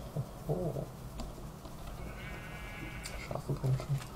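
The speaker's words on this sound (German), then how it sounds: "Schafe kommen schon." Sheep bleating in the video game Minecraft, a few short, wavering bleats heard under ongoing talk in German, moderately near amid other game sounds.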